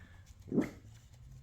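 A single short bark from a pet dog indoors, moderately loud against a quiet room background.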